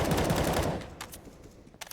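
Rapid automatic AK rifle fire in a Counter-Strike match, a dense loud burst for the first part, then tapering into scattered fainter shots and echoes.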